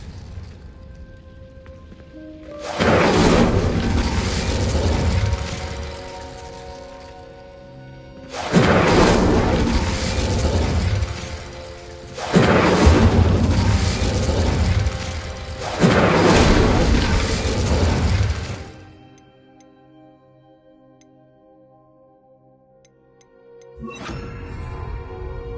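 Confringo fire spell blasts in Hogwarts Legacy, three loud, sustained crackling booms hitting candelabras, each lasting a few seconds with quieter gaps of ambient tone between them.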